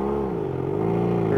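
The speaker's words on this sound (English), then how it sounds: "Just give it gas, you're going to spin anyway." An off-road vehicle engine revs steadily at Hurricane Creek, a loud continuous close drone with shifting pitch as the wheels spin, with no words spoken.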